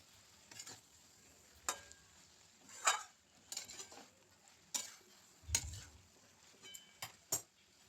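Shish palong chorchori, a spinach dish, is stirred in a pan over a low flame, with faint sizzling broken by separate scraping, clinking strokes of the spoon every second or so.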